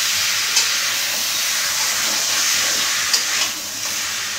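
Chicken with ground spices sizzling and frying in a pan, a steady loud hiss throughout with a couple of brief sharper spits.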